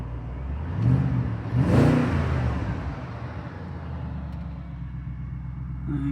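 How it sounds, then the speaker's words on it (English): A BMW 645Ci convertible's 4.4-litre petrol V8 rises in two quick revs, then settles into a smooth, steady idle hum, heard close up from the car with no talking. "Turn the aircon off just for a second so we can hear the engine."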